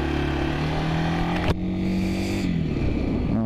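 A 1992 Yamaha Serow 225 motorcycle on a ride, its single-cylinder engine droning loud and close with steady harmonic hum, a brief gear change and pitch drop as it slows, wind rush behind.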